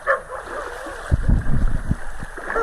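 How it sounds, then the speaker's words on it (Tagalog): A few soft barks from a dog somewhere off at a distance, heard over steady running water and outdoor background noise. "Kasi may aso eh."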